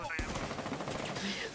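Gunfire from a Rainbow Six Siege esports match, a burst of rapid shots close up with more scattered firing behind, under a caster's voice.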